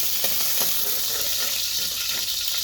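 Chopped garlic sizzling in cooking oil in a dark frying pan, a steady close hiss throughout with small crackles.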